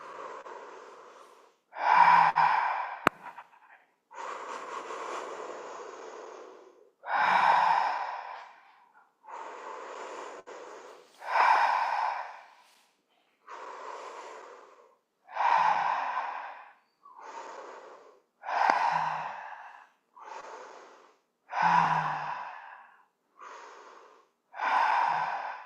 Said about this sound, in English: Last 10 breaths here.